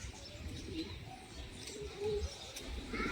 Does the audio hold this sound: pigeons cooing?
yes